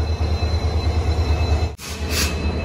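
A passenger train pulling out of Amritsar station, its steady low rumble rolling on continuously, with a brief dip partway through and a higher rushing hiss rising near the end; no talk.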